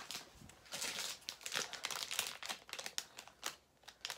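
Fortnite loot packaging being unboxed, with plastic and paper crinkling and rustling in quick, uneven bursts close to the microphone, with no voices over it.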